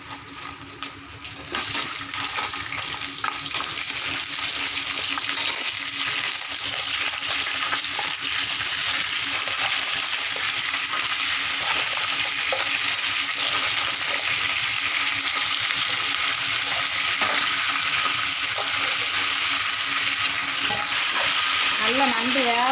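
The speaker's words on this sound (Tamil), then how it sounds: "நல்லா நண்டு வேகட்டும், வெந்த பிறகு மசாலா போடலாம்." Small cleaned crabs cooking in a pan and being stirred before masala goes in, a loud, steady, close sizzle with watery bubbling and repeated scraping strokes that runs almost the whole time.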